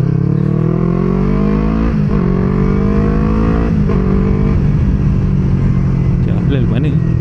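A Yamaha R25 motorcycle, a 2016 model with a standard 12 mm setup, drones loudly and steadily while being ridden, its engine pitch rising and falling with throttle changes throughout.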